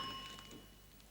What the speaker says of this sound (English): I bet you're wondering how she managed to press the doorbell, Jimmy.